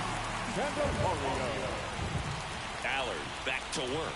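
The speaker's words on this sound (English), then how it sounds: "This rain is not letting up." Rain falls steadily during a baseball game in MLB The Show, a continuous hiss running beneath the whole stretch while a commentator talks over it.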